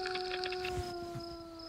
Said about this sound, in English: This is a coyote.